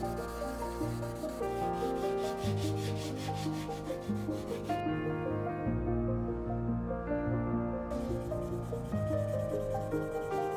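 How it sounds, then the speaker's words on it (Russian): Decals on a 1:72 scale B-1B Lancer model aircraft are sanded smooth by hand, a close, continuous rhythmic rubbing and scratching of strokes with no voices. "шлифую декали до однородной поверхности"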